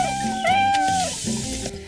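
A cat in the pirate city-building video game Tropico 2: Pirate Cove gives a short, clear, drawn-out meow, loud and close, followed by a softer trailing cry.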